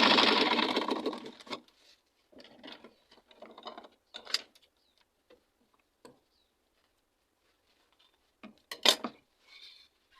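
Sewing machine stitching a folded edge of satin fabric for a turban cap, a loud continuous run for the first second and a half, then short bursts and scattered mechanical ticks with quiet gaps.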